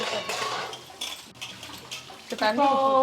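Dishes and cooking vessels washed in water in a home kitchen, with clinks of metal and splashing spread through the clip while a voice talks over it.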